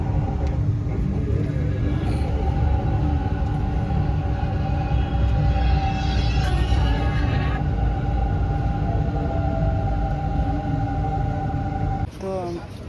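Metro train ride in Korea, with a steady low rumble of the carriage running throughout, an electronic chime or announcement tone in the middle, and people talking faintly over the moving train.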